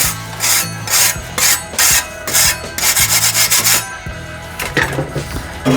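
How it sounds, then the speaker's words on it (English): Putty knife scraping burnt residue off a BBQ grill; loud, close, repeated rough scraping strokes in a quick uneven rhythm with metallic rasping edges. "So that's one that you can scrape off with your putty knife first to get the big chunks"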